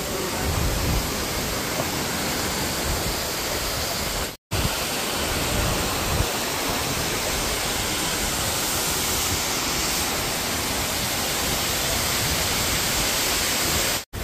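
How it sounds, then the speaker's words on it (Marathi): Domzara waterfall near Jawhar roars as a loud, constant broadband rush of falling water, steady and unbroken apart from two brief cuts. "आणि मेन आपला फॉल इथे आहे, धबधबा"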